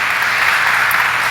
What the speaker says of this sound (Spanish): Alábele a Él con un aplauso.